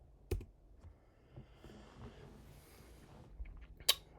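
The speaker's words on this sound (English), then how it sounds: "we can do our before and after here by hitting backslash on the keyboard" Soft, isolated key clicks from a computer keyboard, including a backslash press, sound faintly in a quiet room, with a sharper tap near the end.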